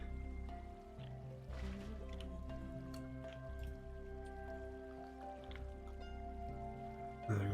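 Water pouring off the edge of a floating island in Minecraft, with steady trickling and scattered drips in a continuous wash under sustained game tones.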